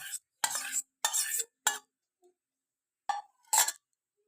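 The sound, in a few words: three eggs being beaten for Spanish omelette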